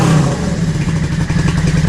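A motorcycle engine idles steadily at about 1,000 RPM with its carburettor needle jet just adjusted, a loud, close, continuous low rumble with a slightly uneven, clattery pulse throughout.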